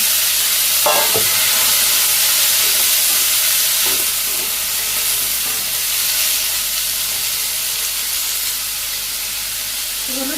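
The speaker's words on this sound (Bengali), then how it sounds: "পেঁয়াজ কুচি দিয়ে দিই ফোড়ন হয়েছে যে সবজিও দিয়ে দিই" Vegetables fry with chopped onion and cumin in hot oil in a pan in a Bangladeshi village kitchen, filling the clip with loud continuous close sizzling and hissing, with a few stirring knocks.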